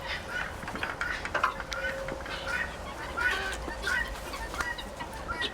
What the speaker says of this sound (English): These silly guineas.